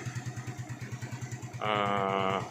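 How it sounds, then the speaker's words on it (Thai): A 2012 Yamaha Fino scooter with its original quiet engine idles with a steady low putter, then is revved briefly into a smooth rising drone before settling. "รถสวยก็เครื่องเงียบเลยเนี่ยเดี๋ยวเบิ้ลให้ดู"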